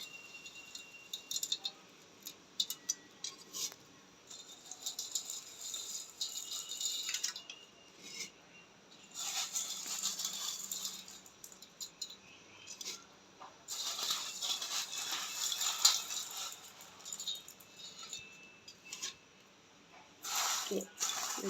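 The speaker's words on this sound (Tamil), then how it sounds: "இந்த டைமில் வந்து நாங்கள் நூடுல்ஸை போடுவோம்." Noodles go into a pot of boiling water in a home kitchen, bringing bursts of bubbling, splashing and dripping that come and go in uneven patches while someone talks nearby.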